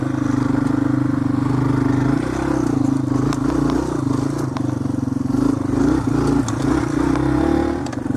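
A Yamaha TW200 motorcycle rides a woods trail, its single-cylinder engine droning steadily and close throughout with small throttle changes and rattles and scrapes from the rough ground.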